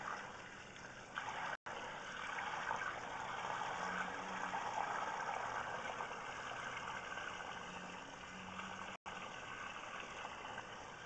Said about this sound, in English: And I'm going to introduce some water to the line here.